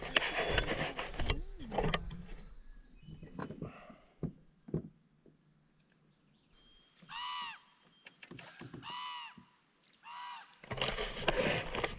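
Loud honking squawks from birds, geese-like, come in repeated groups of calls, mixed with rustling and handling noise nearby, at a Boundary Waters lake portage.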